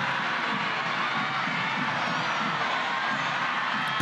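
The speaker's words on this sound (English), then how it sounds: "And the roar of the crowd, the best crowd that has turned out for the tournament tonight" Dense, sustained crowd roar in a packed stadium during a women's soccer match, United States against Mexico, a constant wash of cheering and shouting with no lulls.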